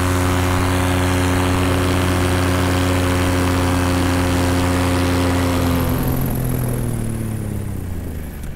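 A paramotor engine drones loud and steady in flight over a deserted island, its propeller hum holding a constant pitch before easing and thinning slightly toward the end.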